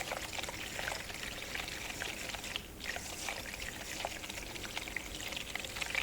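Electric makeup brush cleaner spinning a brush in water, a steady faint swishing and trickling churn lasting throughout without talking.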